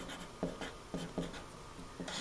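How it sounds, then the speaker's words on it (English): Pen writing names on a sheet of paper for a dice game, heard as a few short scratchy strokes in quick bursts, close and fairly quiet. "you simply write your names on the piece of paper"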